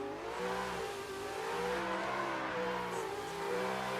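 Toyota Supra and GT86 drift cars on a track at a street-spec drift competition, engines revving hard with rising and falling pitch, loud and continuous, with a hint of tire noise.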